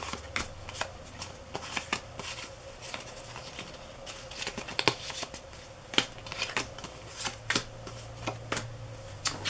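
Game cards being handled and shuffled, a quick irregular patter of soft riffling and flicking taps, close but quiet, with no one talking.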